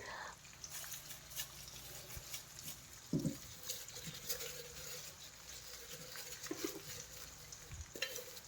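Brinjal curry simmers and bubbles in a pan after leftover masala water goes in, a quiet sizzle marked by occasional stirring scrapes and clinks, with a louder knock near the middle.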